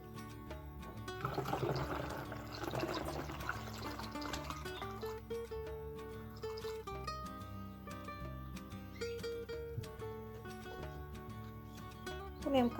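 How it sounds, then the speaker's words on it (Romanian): Water poured into a container, starting with a fuller rushing gush that settles into a softer, steady trickle and gurgle, with no speech over it. "Apoi vom pune și apa."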